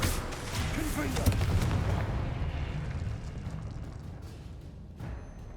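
A Confringo blasting spell explodes during Hogwarts Legacy combat: a rumbling burst that swells early, then fades into a long decaying tail, with a smaller impact near the end.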